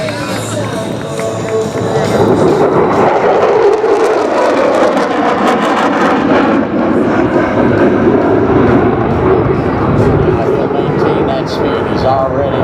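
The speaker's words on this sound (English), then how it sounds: "The aircraft commander has pushed the throttles up to the combat position and gone to afterburners." A USAF B-1 bomber tears past on afterburners at a 2012 Joint Base MDL airshow, a loud continuous roar sweeping in pitch as it passes. A crowd and an announcer's voice are audible beneath it.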